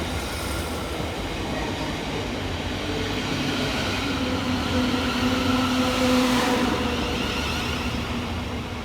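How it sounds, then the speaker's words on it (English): Southeastern class 707 electric multiple units, 707-018 coupled with 707-029, pass through a station on the Hayes line toward London Bridge. A steady, loud rumble of wheels on rail builds and fades across the pass, with a faint squeal. "here comes 707-018 and 707-029, working the 1304 Southeastern service from Hayes through to London Bridge"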